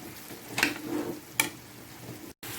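Chicken pieces coated in garam masala fry quietly in a pan, with soft sizzling and a couple of brief scraping stirs of a spoon, no talking.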